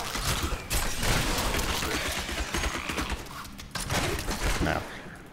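Rapid bursts of odd-sounding gunfire from the video game Diablo III, played as a Demon Hunter, crackle in dense loud volleys through most of the stretch, with a voice speaking underneath.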